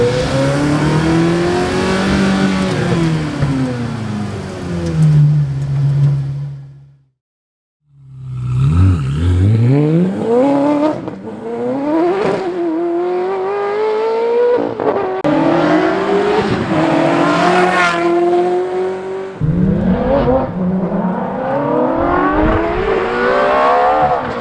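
A Ferrari F430 with a straight-pipe exhaust revs hard and loud, its pitch climbing and falling in repeated pulls, dropping briefly to near silence before roaring back with sharp rasping surges, no talking.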